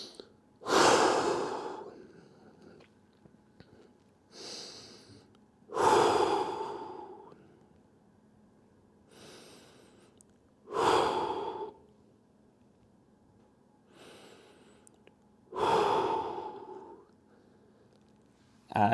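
Slow, relaxed breathing during a child's pose stretch: close, audible inhales and exhales recur every few seconds, each breath a soft airy rush with quiet gaps between.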